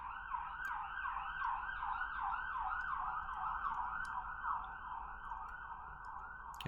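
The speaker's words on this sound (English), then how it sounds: "apologies for the siren in the background" An emergency vehicle siren wails steadily in a rapid rising-and-falling pattern, heard at a moderate distance and fairly faint.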